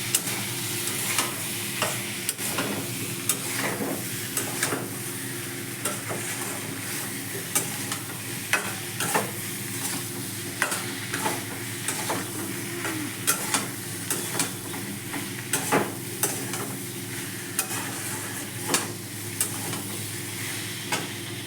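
Chili and cumin powder being stirred into a sizzling pan for a shrimp and vegetable-stalk chorchori, a steady frying hiss under a regular rhythm of sharp spatula scrapes and taps, close and without talk.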